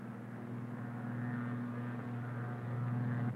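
A T-2 monoplane, a propeller aircraft loaded to 10,000 pounds, taking off from an airfield: a steady droning engine and propeller roar with a strong low hum, continuous and fairly loud throughout, no voices.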